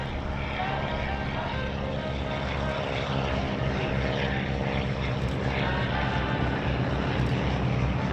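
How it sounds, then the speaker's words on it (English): A Stearman biplane flies at an air show with a loud, continuous propeller-engine drone that stays close and steady throughout, while a voice talks underneath. "how to fly the Stearman"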